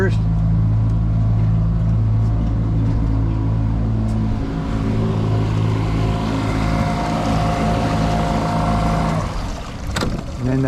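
Inboard engine of a 22-foot North River F250 jet boat at rest, rumbling low and steady up close, then easing down near the end, with a brief sharp knock toward the finish.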